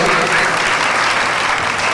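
Audience at a devotional gathering with folk dance performances clapping together, a loud dense burst of applause filling the whole moment.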